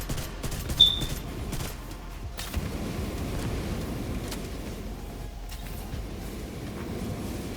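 Gunfire in The Division 2 aimed at a raid boss's glowing backpack cylinder, heard as a faint, steady rumble of shots with a few sharper bursts and no voices.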